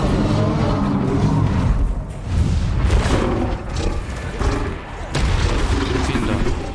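Bombarda explosion spell cast in Hogwarts Legacy, heard as a series of loud, booming blasts that arrive in quick succession with short gaps between them.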